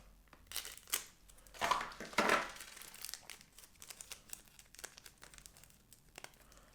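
A small card packet is cut and peeled open with a little knife during a Japanese snack box unboxing, giving two louder crinkling, tearing bursts followed by quieter rustles of handled plastic wrapping up close.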